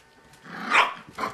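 Small puppies give a short burst of yapping barks mixed with low growls, close by and rising to a peak before a final yip.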